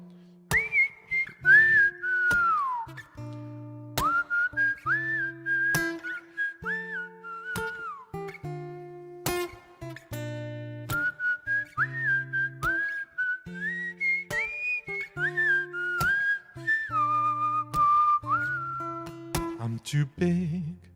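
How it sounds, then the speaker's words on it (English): A long whistled solo melody, clear and close, with sustained notes and quick slides phrased in short bursts separated by brief gaps. "The original whistle solo."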